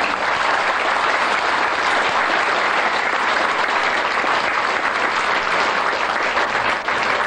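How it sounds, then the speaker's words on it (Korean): Sustained, dense applause from a large audience at a choir concert, loud and steady throughout with no voices standing out. "다시 한번 격려의 박수"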